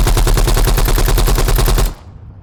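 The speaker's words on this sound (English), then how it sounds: "You encounter the AK-47, which, got no mods, but you probably know how to use an AK-47" A loud, rapid burst of automatic AK-47 fire in the VR game Vertigo 2, an even rattle of close shots that cuts off abruptly, leaving a brief fading tail.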